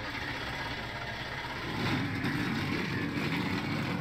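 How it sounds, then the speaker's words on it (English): V8 Supercar engines in a sim racing game at Watkins Glen, a steady mid-pitched engine drone that grows slightly louder partway through, heard alone without talk. "Drivers, start your engines!"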